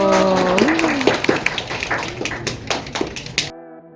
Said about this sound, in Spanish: Un aplauso para el señor de Zipán